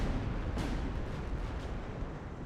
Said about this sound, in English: Zoom in for the final climactic explosions of this match